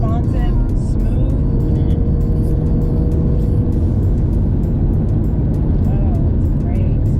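Loud constant cabin drone of a 2020 BMW M2 Competition with twin-turbo engine on a track, a deep steady road and engine roar with occasional faint whistles, heard from inside the car.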